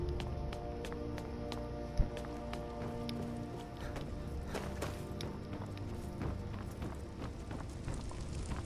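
Rhythmic hoofbeats of a galloping horse in Skyrim run steadily throughout over a dense game soundtrack, with a sharp thud near the start.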